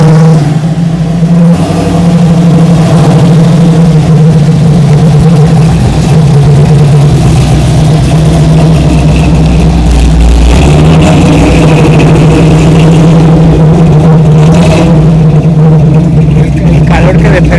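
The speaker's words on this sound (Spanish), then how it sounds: "por el fondo se escucha un V8 que efectivamente viene para acá" Chevrolet Camaro Z28 V8 at a classic car gathering, a loud, deep burbling idle with occasional revs building and falling, heard near and steady, with people talking over it at times.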